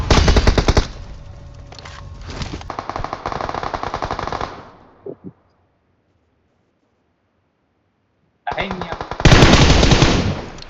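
Automatic gunfire from the video game BGMI rattles in fast, loud bursts, breaks off into near silence for a few seconds, then resumes with another close, heavy volley.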